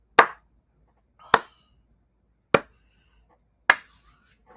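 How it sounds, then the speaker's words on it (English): Four slow, sharp, evenly spaced claps ring out alone, each about a second apart, close and clear against silence. "Slow 80s clap on that one."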